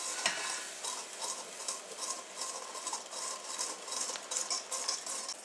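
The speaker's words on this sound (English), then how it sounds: "we're going to slowly start to whisk this in" A whisk working vanilla-infused cream into an egg mixture for crème brûlée, giving a steady, fast scraping and swishing with faint metallic clinks against the bowl, close and continuous with no voices.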